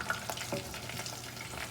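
A soft, steady sizzle of chicken wings frying in oil, quiet and continuous with faint crackles throughout.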